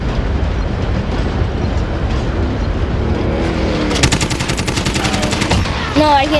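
A train in a first-person shooter video game rumbles heavily and continuously, joined by rapid bursts of gunfire and a loud impact near the end.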